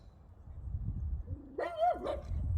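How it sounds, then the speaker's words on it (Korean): A dog barks during a pet-friendly car-camping trip in a pine forest, a short rising, whining bark burst standing out over low background rumble and faint outdoor noise. "이거 보고 짖는 거 좀 봐"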